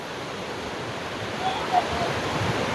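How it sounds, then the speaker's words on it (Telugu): Krishna river floodwater surges through the Prakasam barrage in a steady, broad rushing roar that stays continuous and moderately faint throughout, with no voices standing out. "చాలా డేంజర్గా అయితే ప్రవహిస్తుంది సముద్రంలో"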